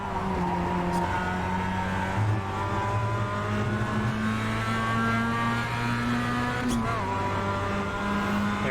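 A race car engine in the iRacing simulator drones steadily at sustained revs with layered harmonic tones and slight pitch shifts as the car drives laps, accompanied by a faint passing engine now and then.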